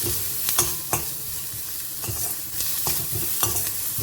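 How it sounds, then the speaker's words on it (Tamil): Small onions (shallots) sautéed lightly in a pan, with steady soft sizzling and a few sharp scrapes of a spoon stirring at regular intervals; close and alone, no talk. "சின்ன வெங்காயத்தை போட்டுட்டு லைட்டாக சாட்டே பண்ணிடலாம்."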